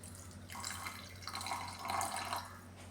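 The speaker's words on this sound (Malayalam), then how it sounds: "ഇനി ഇതിലേക്ക് കുറച്ച് വെള്ളം ചേർത്ത് കൊടുക്കാമേ" Water running from a tap or being poured into a mixer jar holding ground coconut in a home kitchen, a steady trickling stream that lasts the whole clip, close and moderately loud, with no talking.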